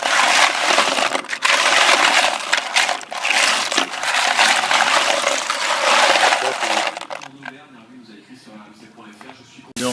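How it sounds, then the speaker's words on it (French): Running water pours loudly and continuously as snails are rinsed, splashing for several seconds before tapering off into quieter trickles and light clinks. "Là maintenant, je vais les rincer la dernière fois."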